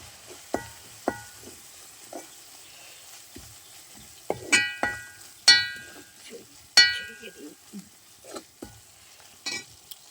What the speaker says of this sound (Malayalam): ഇതിലേക്ക് മസാല ഇട്ട് അതും കൂടി ഒന്ന് നന്നായിട്ട് ഇളക്കി കൊടുക്കാവേ